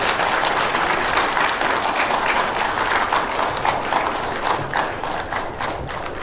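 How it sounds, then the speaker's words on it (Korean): An audience in a hall breaks into loud, dense applause for Daegu city officials, the clapping continuous and close, slowly thinning toward the end. "우리 대구시 공무원들에게 여러분 박수 한번 보내주십시오."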